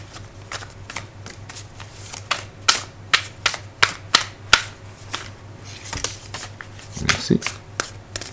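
A deck of tarot-style cards is handled and shuffled, giving a series of sharp papery riffles and slaps in an irregular rhythm, close and clear, with a voice talking briefly near the end.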